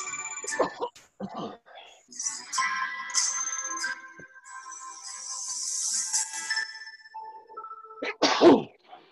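A sharp sneeze bursts out near the end after stretches of quiet, breathy vocal sounds and a few short clicks.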